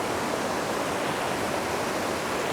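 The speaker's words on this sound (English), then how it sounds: "Water's flowing pretty good." Kibbie Creek in Yosemite National Park rushing steadily, a dense, loud, unbroken roar of flowing water heard up close, with no other sounds.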